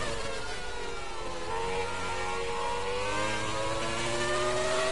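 A Formula 1 race car in F1 2020 at Silverstone, its engine holding a high, steady whine with layered harmonics that rise gradually as it accelerates, loud and continuous with no speech.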